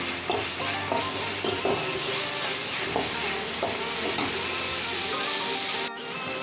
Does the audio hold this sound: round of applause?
no